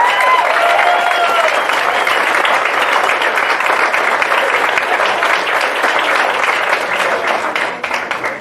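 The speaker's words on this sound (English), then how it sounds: "So we give them one more round of applause." Audience applause fills a baseball banquet hall for the Coronado High School Islanders, a dense, steady wash of many hands clapping close and loud for the full stretch, easing slightly at the very end.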